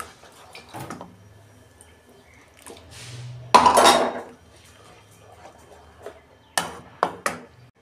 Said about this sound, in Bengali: বাটিটা ধুয়ে একটু জল দিয়ে দিচ্ছি।